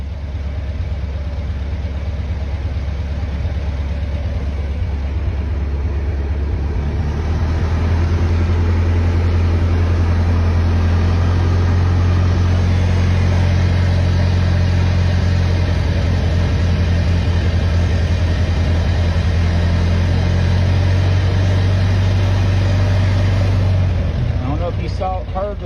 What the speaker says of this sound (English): Heard the engine sound right there, but it smoothed out right there when I found that spot.